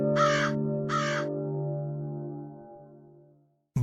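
A crow in an animated film, landing on grass to snatch a dropped biscuit, gives two loud, close caws in quick succession near the start over a steady, sustained tonal background that fades out.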